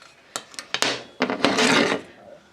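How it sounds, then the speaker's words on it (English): Metal burner assembly of a GE gas oven is wiggled and pulled free, producing close scraping and rubbing with a few sharp clicks and knocks over a couple of seconds. "you can just grab the entire burner assembly here and just wiggle it and pull the entire thing out"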